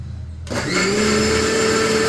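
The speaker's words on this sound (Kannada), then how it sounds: "ಯಾವತ್ತಿಗೂ ಮಿಕ್ಸಿ ಆನ್ ಮಾಡ್ತೀನಿ ಅಂದ್ರೆ" A kitchen mixer grinder (mixie) is quiet for half a second, then switches on and settles into a loud, steady motor whine with a rising tone, running alone without talk.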